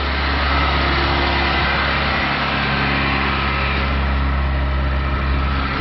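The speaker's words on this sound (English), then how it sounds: "All right, car's running." Toyota Corolla engine idles steadily just after a catalytic converter replacement, a continuous low hum with a smooth, even rumble that holds constant throughout, close by and with no voices.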